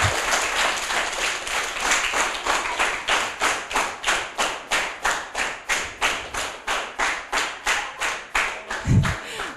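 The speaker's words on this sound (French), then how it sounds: "On les applaudit bien fort." An audience at a children's book reading claps in unison, a steady rhythmic series of synchronized handclaps at a regular beat, fairly close, with a low thump near the end.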